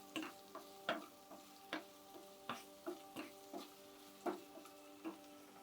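Okra (lady's finger) frying in a pan, with irregular clicking pops and taps of a spatula over a steady hum, fairly faint and with no talking.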